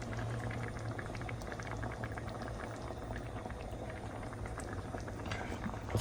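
Homemade marinara sauce with olive oil simmering in a pot, a soft steady bubbling and popping that stays faint and even throughout, with no talking.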